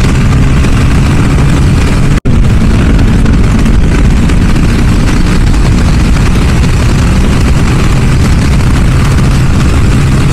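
A KTM RC390 motorcycle accelerates hard on a highway after a gear drop, its engine roaring loud and steady throughout with rushing wind, broken only by a momentary cut near the start.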